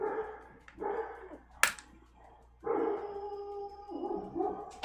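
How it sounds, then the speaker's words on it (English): Dogs bark in bursts, several loud, near barks with a howling, yowling edge, one sharp crack partway through, set against a faint steady indoor hum. "And now the dogs are barking"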